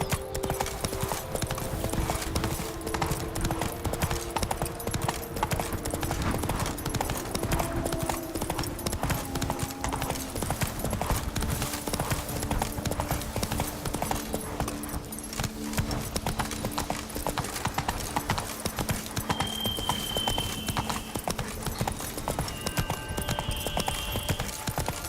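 Roach, the horse in The Witcher 3, gallops steadily in a fast, continuous clip-clop of hooves with a brief whinny, all under game ambience and without talk.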